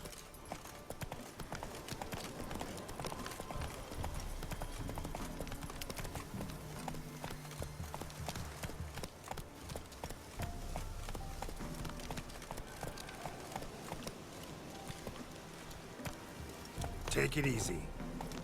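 Hooves of the horse Roach gallop in a steady clip-clop rhythm through The Witcher 3 video game, loud and continuous beneath game music, with a voice speaking over it.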